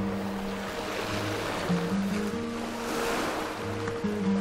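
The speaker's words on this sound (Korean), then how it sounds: "귀를 기울여 소리를 들어보면 몽돌과 파도가 만나는 맑은 소리에 마음이 편안해집니다" Waves washing over smooth, rounded beach pebbles on the shore of Oeyeondo island in Korea, a continuous rushing wash with swelling surges, heard alone with no voices.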